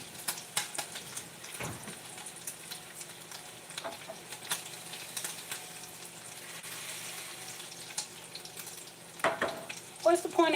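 Beef bacon frying in a pan, a steady crackling sizzle with scattered pops and utensil clicks running under the whole stretch, moderately close.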